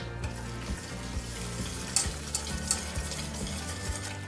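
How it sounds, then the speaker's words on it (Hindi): A whisk stirs a cocoa powder mixture in a pan over a low flame, soft rhythmic scraping and sloshing strokes with light clinks, close and fairly quiet. "विस्क की मदद से मैंने इसको हिलाती जा रही हूँ"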